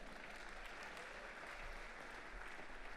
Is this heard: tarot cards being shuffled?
no